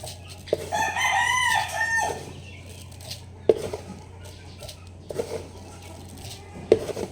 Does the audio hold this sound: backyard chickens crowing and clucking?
yes